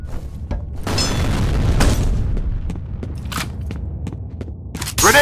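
A grenade bursts in the shooter F.E.A.R. Combat with a heavy, booming roar lasting about a second, followed by scattered thuds and footsteps, then another loud blast right at the end.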